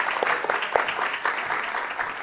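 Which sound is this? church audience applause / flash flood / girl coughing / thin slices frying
church audience applause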